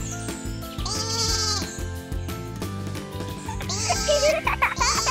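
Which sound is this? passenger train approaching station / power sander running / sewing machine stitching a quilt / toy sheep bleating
toy sheep bleating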